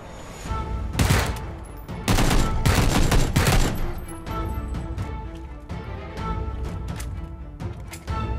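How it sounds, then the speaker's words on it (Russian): Rapid bursts of gunfire from a video game, loud dense volleys and machine-gun rattle in a crowded, noisy battle mix, no talking. "Стреляй в того дальнего."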